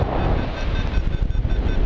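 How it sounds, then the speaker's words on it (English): Steady wind roars over a paraglider in flight above the Rose Valley in Bulgaria, a constant low buffeting rush close to the microphone with no speech. "But today we have a south wind"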